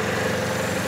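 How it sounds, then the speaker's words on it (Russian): A small Oka car engine idles quietly and smoothly up close, with a steady low hum and faint vibration and no talking over it. "Насколько мотор тише и приятнее работает, чем тот."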